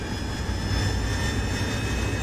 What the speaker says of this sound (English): Get that baby revving. Big engine. Takes a long time to get it spooled.